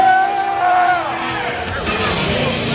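Crowd at a League of Legends match at PAX cheers and yells for the red team, a dense, loud roar of many voices that holds steady throughout.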